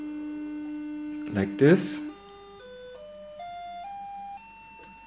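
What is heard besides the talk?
electromagnet oscillating magnetic field at changing frequencies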